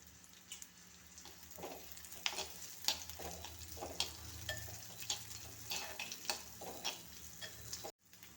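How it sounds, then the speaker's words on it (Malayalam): Sliced onions sauté in hot oil with curry leaves in a pan for an egg and tomato curry, a steady soft sizzle broken by repeated scraping stirs of a spoon, close and fairly quiet, ending abruptly. "ഇതിലേക്ക് സവാള ഇട്ട് നല്ലപോലെ വഴറ്റിയെടുക്കാം."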